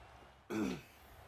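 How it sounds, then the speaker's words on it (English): One short, gruff throat clearing, close and brief, against a quiet background. "Sorry, I had to clear my throat there."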